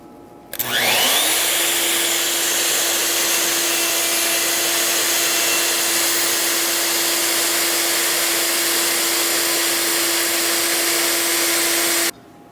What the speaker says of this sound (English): we're going to go ahead and rabbet for the back panel and trim that shelf up